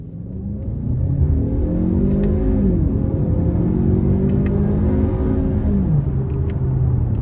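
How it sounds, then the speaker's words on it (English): A 2017 Lincoln MKC Select AWD pulls hard from a red light in sport mode, engine note rising steadily through the gears as it revs up, a continuous near rumble with shift dips, no talking. "next I'm gonna put it in a sport mode and give it a pull coming out of this red light."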